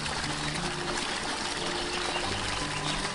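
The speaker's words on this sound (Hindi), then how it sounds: "एक तेज पानी का फंवारा निकला और देखते ही देखते पूरी तलैया भर गई" A strong fountain of water gushes up and fills a dry pond, a loud, steady, broadband rushing and splashing that continues without a break and with no voices.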